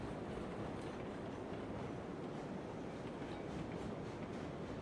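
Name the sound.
train running in Railroads Online video game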